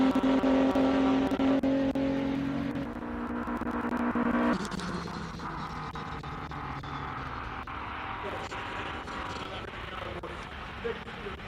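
A classic Ford Capri race car at a hillclimb, its engine loud and droning near the start, then easing away and fading into the distance while a commentator talks over it.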